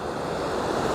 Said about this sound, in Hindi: यहाँ पानी की आवाज़ ने हमें मजबूर किया कि हम ठहर जाएं